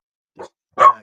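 A pet dog named Tiggy barks twice indoors, a short soft yip followed by a louder, fuller bark, with silence between.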